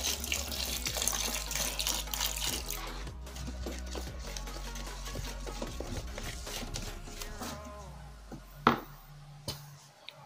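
Water pours from a tap into a container while oxy liquid detergent is being mixed, a steady splashing flow with faint clinks and knocks near the end.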